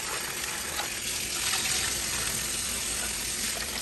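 Tap water gushes steadily and loudly from close by while raw crabs are rinsed, a continuous hiss of running water with no talk over it.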